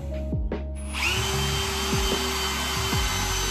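A power drill whirs steadily after a short start-up, its pitch dipping in repeated strains as the bit bores a pilot hole at a Toyota Soarer/Lexus SC400 wheel stud, close and loud.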